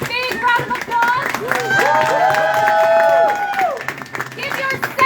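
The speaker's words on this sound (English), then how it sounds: "Please give all of our speakers a big round of applause." Rally crowd at a Staten Island speak-out bursts into loud, sustained clapping and cheering for the speakers, with whoops and shouting voices rising over the applause.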